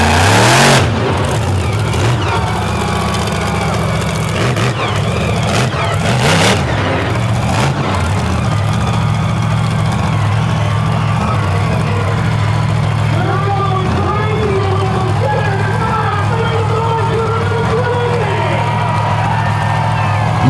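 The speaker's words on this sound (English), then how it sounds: "This truck has a blower whine like no other." A supercharged show truck on XT tires revs hard at a Lake Erie racetrack, a loud sustained engine roar with blower whine and tire smoke, crowd noise underneath and an announcer talking over it.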